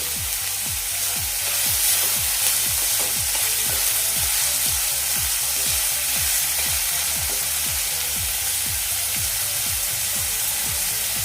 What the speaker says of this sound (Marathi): कांदा ट्रान्सपरंट होईपर्यंत आपण फ्राय करून घ्यावा